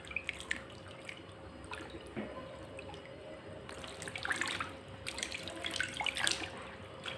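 Water from a tap runs steadily while grapes are washed in a home kitchen for homemade grape wine, with soft splashing and dripping that swells toward the end and no talking.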